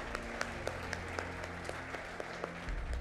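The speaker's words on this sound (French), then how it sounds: "Applaudissons-les pour qu'ils puissent arriver." Applause from an audience greeting students as they come up on stage, a steady patter of scattered claps at moderate distance, fairly light and thin, ending with a low rumble.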